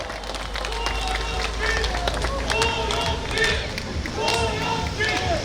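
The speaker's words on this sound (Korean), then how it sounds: "박수!" A campaign rally crowd outdoors claps steadily in a sustained burst of applause with shouts mixed in, while a voice talks over it.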